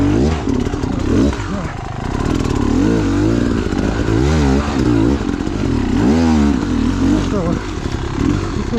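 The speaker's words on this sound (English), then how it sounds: "That's a huge bike." A large motorcycle's engine roars close by and rises and falls in pitch as the bike rides past, with a smaller bike's engine droning steadily throughout.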